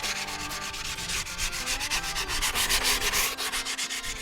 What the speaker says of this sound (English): I'm just going to sand this real quick.